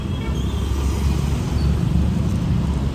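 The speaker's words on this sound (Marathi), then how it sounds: "आवाज येते गाडीचा म्हणून थांबले बघायला" A car passing on a roadside, a steady low rumble of engine and tyre noise that rises and falls gently, heard close and alone with no talk.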